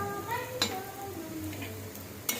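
Slices of suran (elephant foot yam) coated in semolina fry in hot oil, a soft steady sizzle broken by a few sharp clinks of a utensil against the pan, close up and without talk.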